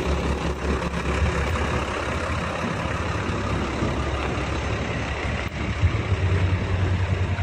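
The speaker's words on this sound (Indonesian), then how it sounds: "Masuk bus Sinar Muda" A Sinar Muda intercity night bus on the Malili route pulls in at a terminal, its engine rumbling steadily and loudly from close by with a deep low drone throughout, and no voices.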